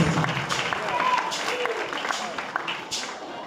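An audience applauding at a church gathering, a sustained wash of clapping and crowd noise rising and falling, with voices calling out over it.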